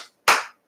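Clapping from a church congregation: one sharp, loud clap burst with a short trailing decay, a faint clap just before it and another starting at the very end, heard alone.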